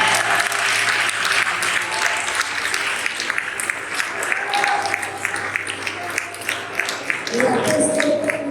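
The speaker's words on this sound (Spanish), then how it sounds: "den un aplauso fuerte a Cristo" A church congregation applauds loudly for several seconds, a thick and continuous roar of clapping that stays strong from start to finish.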